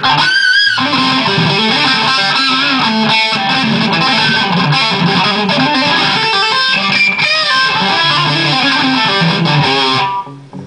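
A distorted electric guitar, a 2003 PRS Custom 22 through a Boss OS-2 overdrive pedal, plays continuously, loud and gritty overdriven tone with sustained chords and riffs, then cuts off abruptly at the end.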